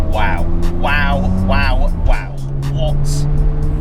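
A 1999 Mazda RX7 FD RS twin-turbo sports car pulling under power, its engine a steady droning tone beneath someone talking close over it.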